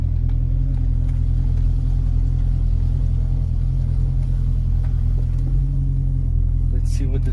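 A flood-damaged Corvette's engine rumbles loudly and steadily from inside the car at the start of a test drive, a deep continuous drone with little change in pitch, with talking over it.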